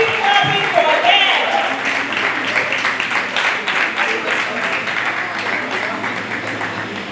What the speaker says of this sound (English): Please don't stop clapping, don't stop clapping, let the energy not slow down.